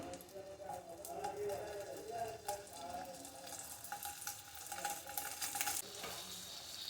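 Paneer pieces dropped into hot oil in a kadai, sizzling and frying steadily while being stirred with scraping clatters, close up. A voice speaks quietly underneath.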